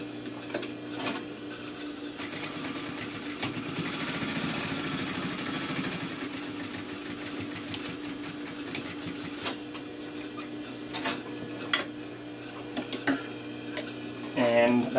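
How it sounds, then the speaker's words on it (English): A sewing machine stitches a straight line with back tacks at start and end while a blazer pocket is made, a quiet rapid mechanical whir with ticking, paused briefly, under faint background noise. "Start with back tack, sew the whole length of that line,"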